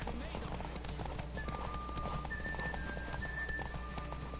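Rhythmic hoofbeats of a galloping horse in the video game Witcher 3, steady clip-clop pounding over a low rumble with faint tonal music or effects on top.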